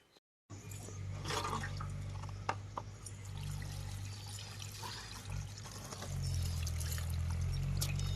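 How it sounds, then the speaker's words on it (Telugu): Bucket water being poured out to wash fish, a steady close rushing splash that runs continuously and swells louder near the end, with no talk. "మూడు బకెట్ల నీళ్ళు అయిపోయినాయి మాకు చేపలు కడగడానికి"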